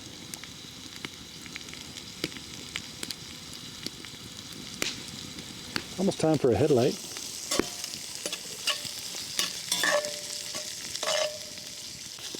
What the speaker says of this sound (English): Thought you might like the sizzle.